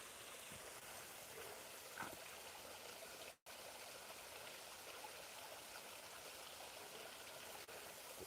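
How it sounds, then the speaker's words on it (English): Mountain stream of floodwater pouring steadily downhill beside an old tram line, a constant rushing, splashing roar heard close with no talk and a single brief dropout. "Water still coming down from the mountain."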